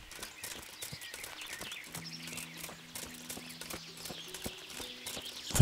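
Horse hooves clip-clop steadily at a walking pace in the Kingdom Come: Deliverance video game, fairly quiet, with light bird chirps and a soft tonal background.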